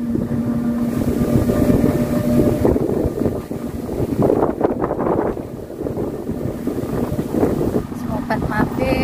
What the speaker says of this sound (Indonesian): Anginnya mulai kencang lagi.